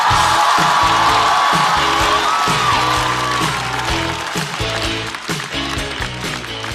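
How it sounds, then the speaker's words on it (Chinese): A studio audience at a Chinese stand-up comedy show claps and cheers to welcome a comedian on stage, a loud dense wash of applause with whoops, over music, fading slightly toward the end. "掌声欢迎雪冰"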